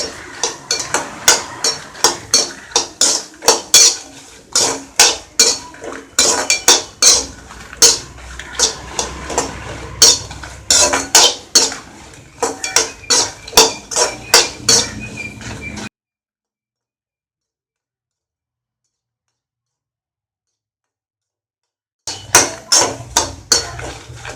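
Dried red chillies roasting in a pan on low heat for idli podi, stirred with quick, steady scraping and clattering strokes that run busily, then stop in silence for several seconds before resuming.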